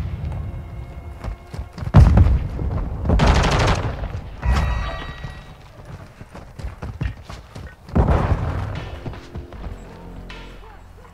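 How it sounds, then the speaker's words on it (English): Bursts of video game battle gunfire crackle in loud rapid volleys with heavy thumps, easing into quieter scattered shots before another strong burst, all under a busy mix of game effects. "Watch for enemy fire!"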